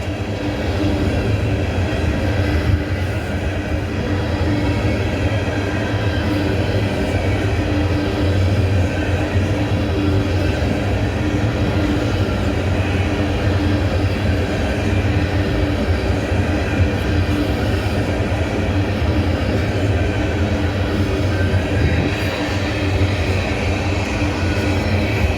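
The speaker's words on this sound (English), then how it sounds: "the coal train comes out of Georgetown, South Carolina at the power plant over there" A coal train running from a power plant in Georgetown, South Carolina rumbles past in a long, loud, steady roll of wheels and railcars, deep and sustained with no voices.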